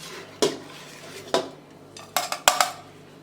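Metal utensils clink against a serving vessel as freshly made gram-flour khandavi bites are transferred into it, a few sharp, close clatters spaced apart with quiet between and no talking.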